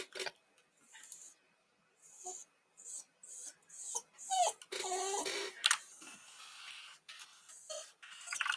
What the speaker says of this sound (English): Oh, puppy. No, puppy, you're okay.